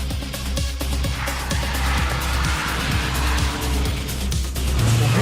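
A 2013 Opel Astra OPC in sport mode pulls hard, its engine note surging and rising over steady road and tyre roar, heard from inside the car with no talking.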